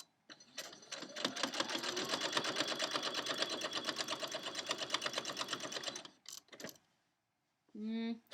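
Domestic sewing machine stitching quilt pieces, a fast close mechanical patter running steadily for about six seconds before stopping, followed by a few clicks and a brief low voice.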